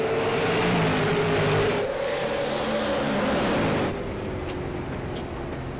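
Race cars roar past on a short-track oval during a stock car series race, steady loud engine drone with pitch shifts as cars pass, then fading slightly toward the end.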